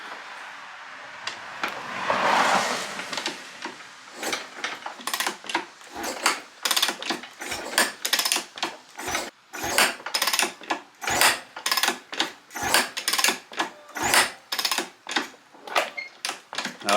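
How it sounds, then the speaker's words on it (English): A 2012 Kawasaki KX250F dirt bike is kick-started with the choke pulled, producing a long run of sharp, rhythmic mechanical thumps from repeated kicks, close and fairly loud, with no engine catching. "I'll give her a few kicks now and see if she'll go."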